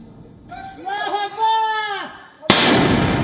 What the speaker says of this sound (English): Afghan forces firing shots in the capital of Badghis province after the Taliban stormed the city